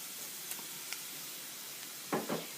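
Crushed garlic and ginger dropped into a pan of frying shallots, a quiet sizzle with two short bursts of louder crackle near the end.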